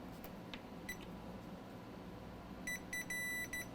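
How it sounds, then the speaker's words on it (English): A multimeter set to continuity mode tests a coil inside a Mercedes-Benz CLK 320 key fob. It gives a few short, faint electronic beeps, one early on and then a quick cluster of repeated beeps near the end. "Meter in continuity mode, and we're gonna measure from here to here."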